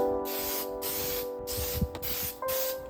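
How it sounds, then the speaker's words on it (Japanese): Gloss spray hisses in several short bursts onto a repaired floorboard, loud and close, with brief pauses between sprays over a steady background hum. "ツヤスプレーをドライヤーを当てながら拭きます。"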